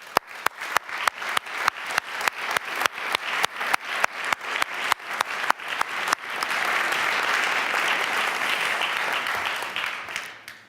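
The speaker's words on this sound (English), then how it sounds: "a big round of applause for everything they're doing in the world and specifically in Africa" An audience at a Jacobs Foundation awards keynote breaks into applause, first as a run of loud, evenly spaced claps, then swelling into dense, sustained clapping from the whole room before fading.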